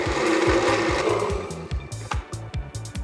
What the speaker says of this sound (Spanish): lo voy a licuar, ya saben, a velocidad baja, con cuidado para que no se nos vaya a explotar la licuadora en la cara